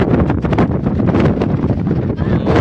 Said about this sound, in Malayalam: നല്ല കാറ്റാണ് നല്ല കാറ്റ്